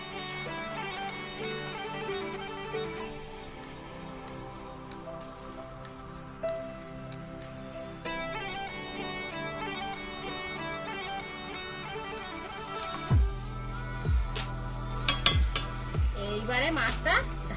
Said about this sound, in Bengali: এইবারে বাটির ধোয়া জলটা দিয়ে দেবো।